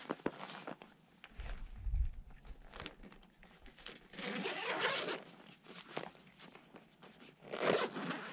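A rooftop cargo bag, used on a car roof without a rack, is zipped closed in several quick, scratchy zipper pulls at close range, separated by short pauses and soft handling rustles.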